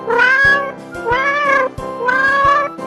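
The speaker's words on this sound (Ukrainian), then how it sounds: "Киця каже Няв-няв-няв." Three drawn-out cat meows in a row, evenly spaced, with soft rhythmic taps beneath them.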